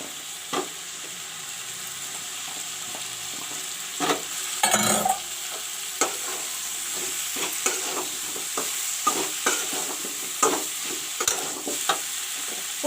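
Brinjal and potatoes fry in browned masala for a palak curry, with a steady sizzle and repeated stirring scrapes and knocks of a spoon against the pan. One louder burst of frying comes partway through.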